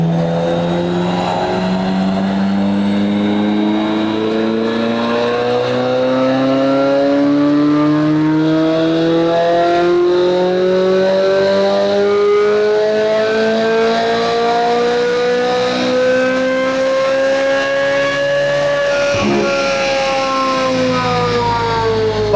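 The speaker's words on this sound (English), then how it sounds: "I'll take a video of the dyno run in here with that" A car engine on a dyno revs continuously and loud, its pitch climbing steadily through one long pull before dropping off sharply near the end, with no talk over it.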